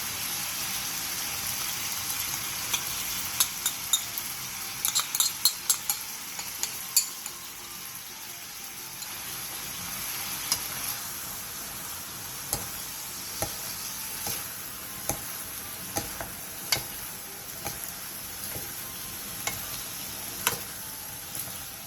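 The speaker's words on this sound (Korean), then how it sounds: "팬에 기름을 두르고 양파, 당근, 양념장을 넣고 중불에서 양파가 숨이 죽을 때까지 볶아주세요." Onion, carrot and seasoning sauce stir-fried in an oiled pan over medium heat, a steady close sizzle with scattered clicks and scrapes of a utensil stirring throughout.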